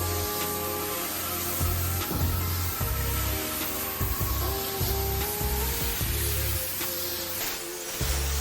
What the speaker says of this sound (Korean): 다음은 틈새 브러쉬 작업을 위한 폼을 빠르게 도포해줬습니다.